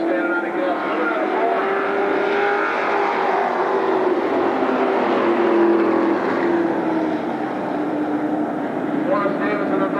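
Late model race cars at Berlin Raceway roar continuously in a loud, dense engine drone with a rising and falling pitch as the pack circles, and a commentator talks over it throughout.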